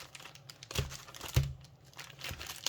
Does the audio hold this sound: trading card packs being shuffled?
yes